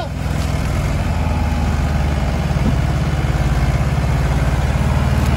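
Diesel engine of a Mahindra Jivo 305 4x4 tractor running steadily while pulling a trolley, a loud, continuous low rumble with no talk over it.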